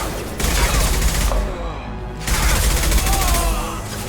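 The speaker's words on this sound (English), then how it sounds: "Taking heavy fire!" Heavy gunfire in Mass Effect 2, dense rapid automatic bursts close and loud, breaking off briefly midway before resuming into a second sustained barrage.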